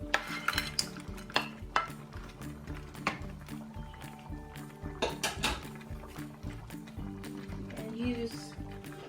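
Wooden spoons stirring a buttered garlic spicy seafood mix with crab in a pot, giving repeated clacks and scrapes against the cookware and wet shuffling of the food, close and fairly loud with no talk.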